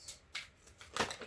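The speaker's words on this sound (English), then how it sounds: "Alright, one more good shuffle, I think, should do it." Tarot cards shuffled by hand in a few short riffling bursts, soft and close in a quiet room with no talk.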